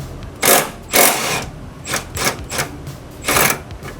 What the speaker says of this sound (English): Vic, go ahead and take out that bolt.